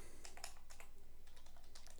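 Someone types an email address on a computer keyboard: quick, light key taps in an irregular run over a low steady hum, close and fairly quiet.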